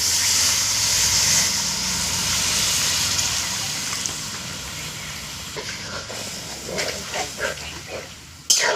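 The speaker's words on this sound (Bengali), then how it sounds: "আমার সবজিটা কষানো হয়ে গেছে, এবার আমি জল দিয়ে দিচ্ছি।" Water is poured into sautéed vegetables in a hot pan, bringing a loud hiss and sizzle that slowly fades into softer bubbling and scattered clinks, ending with a sharp knock.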